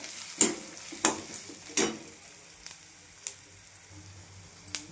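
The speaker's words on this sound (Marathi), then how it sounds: "कांदे छान परतून घ्यायचे आणि लसूण जिऱ्याचा पेस्ट टाकलेला आहे मी" Onions sautéing in oil with garlic and cumin paste for a capsicum besan dish: a faint sizzle sits under a few sharp spoon scrapes and clinks against the pan, spaced roughly a second apart.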